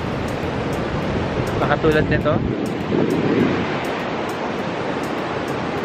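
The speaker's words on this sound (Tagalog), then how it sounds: "grabe yung alon. Like, mataas yung wave at itutulak ka niya talaga." Ocean surf rolling onto Nagtabon Beach in Puerto Princesa, a steady broadband wash of waves with wind noise, a swell rising around the middle, while a person talks over it nearby.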